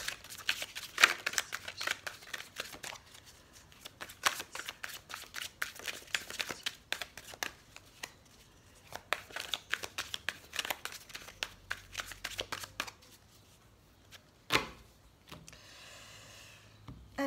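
A deck of oracle cards is shuffled over and over in a steady run of close, crisp riffling and flicking, with a few louder snaps and pauses near the end.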